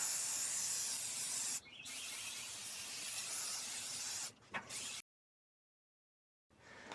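Aerosol waterproofing spray hisses steadily onto a hat in close, loud bursts, with brief pauses between passes and a short final spurt after a silent gap.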